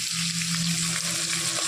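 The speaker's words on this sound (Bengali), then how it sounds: "আবার ওই একই তেলে বাকি মাছগুলো দিয়ে দিয়েছে। এগুলো একটু লাল লাল করে ভেজে নেবে।" Pomfret fish fry in hot oil, reused from an earlier batch, making a loud, dense, unbroken sizzle close up.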